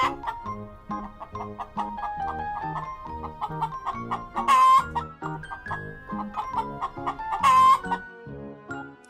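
A hen clucks in a children's cartoon about farm animals, a run of short rhythmic clucks over light background music, rising to a couple of louder squawks.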